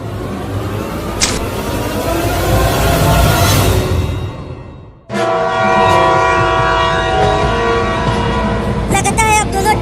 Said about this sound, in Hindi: लगता है अब दोनों ट्रेन की टक्कर होकर रहेगी।